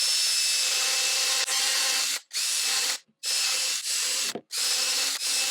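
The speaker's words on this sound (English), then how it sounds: "what I do to clean them out is I use a brass brush in my drill chuck" A power drill spins a brass wire brush in loud, continuous bursts, cleaning the threads of pressure pot nuts, stopping briefly several times between runs, with a gritty scrubbing texture.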